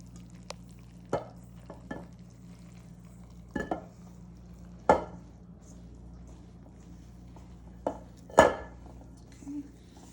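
A hand mixes flour tortilla dough, working wet ingredients into the dry flour in a bowl: sparse, soft scraping and dull knocks against the bowl, spread irregularly over a quiet background with no talking.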